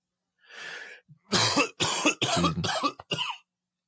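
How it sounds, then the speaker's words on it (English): A short coughing fit: a throat-clearing rasp, then a rapid series of harsh, close coughs in quick succession. "I had a coughing fit anyway."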